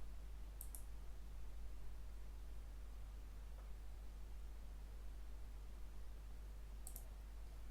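Quiet computer mouse clicks, two crisp clicks about six seconds apart over a faint steady hiss, no voices.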